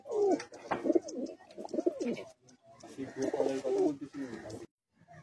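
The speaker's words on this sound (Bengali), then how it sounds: "এই দুটো দেশি পায়রা দেখুন" A breeding pair of native desi pigeons coo at a pigeon loft in Uluberia. The soft, repeated coos run through most of the stretch, and a person speaks at the same time.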